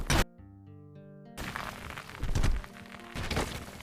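Shiftstone cube explosions in the VR game Rumble, a sudden burst of crashing thumps and cracks after a short musical tone sequence, followed by rumbling impact noise and a second dull thud.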